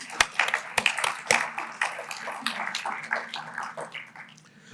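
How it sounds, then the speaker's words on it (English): Conference attendees at a 2023 ESG event give a round of applause for the sponsors: sparse, sharp claps from a small group that start strong and then thin out to a soft patter, heard in a quiet room. "So a round of applause for our sponsors."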